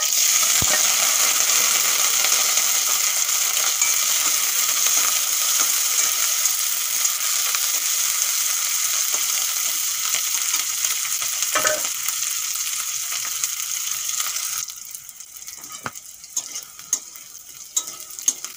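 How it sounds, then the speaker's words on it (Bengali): Green chillies frying in hot oil in a wok give a loud, steady sizzle with occasional stirring scrapes, then the sizzle drops away sharply near the end, leaving only quieter scattered clicks. "তেল গরম হয়ে গেছে, এখন ধুয়ে কেটে রাখা লঙ্কা দিয়ে দেবো।"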